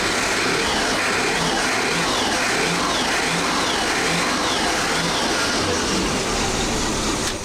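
Mercruiser sterndrive boat engine running after a swap, a loud, close, steady mid-pitched engine drone with slight rises as the throttle is blipped.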